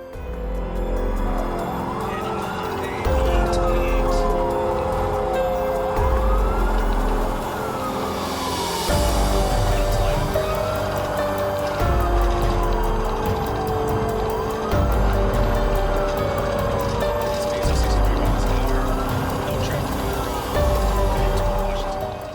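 Police car sirens wailing in rising and falling sweeps during a chase after stolen vehicles fled, loud and close over a rumbling engine and road noise, with a wail cycling repeatedly throughout.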